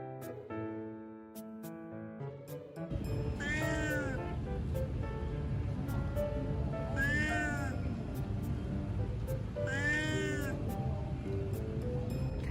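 A street cat in the seaside village of Shek O, Hong Kong, gives three drawn-out meows at roughly even intervals, near and clear over a steady background hiss.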